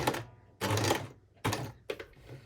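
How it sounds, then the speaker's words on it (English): Sewing machine stitching a fabric Valentine heart wreath, short bursts of rapid needle stitching broken by pauses as it runs forward and back to lock the stitches, close and fairly quiet. "we start with the forwards and backwards to lock the stitches, and then stitch down"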